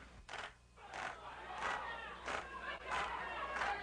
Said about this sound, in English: the jeering and chanting interfere with proceedings in courtrooms on the third floor